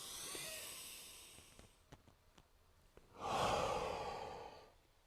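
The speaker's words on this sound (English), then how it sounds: "Coming back, breathing in." A deep inhale during a yoga breathing exercise, a soft airy draw of breath close to the microphone that swells briefly and fades, following a quieter breath and faint taps.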